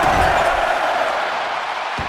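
Arena crowd noise from a WWE 2K25 wrestling match on SmackDown, a steady dense roar of cheering that holds level throughout with a thump near the end.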